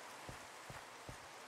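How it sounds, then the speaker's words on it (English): Rain pattering steadily in a Minecraft game world, a soft continuous hiss with a few faint low thuds, alone and quiet. "That just put me into the rain."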